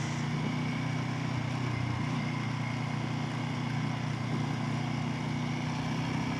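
Steady, continuous engine drone of a small-displacement moped ridden along a road, with a constant low hum and wind rush, alone and unbroken throughout.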